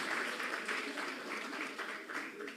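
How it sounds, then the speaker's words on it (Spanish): An audience at a congressional representative's live public meeting claps for the representative, a fairly faint, steady patter of many hands that runs evenly from start to finish. "yo quiero que le demos un aplauso al representante Suárez Vaca"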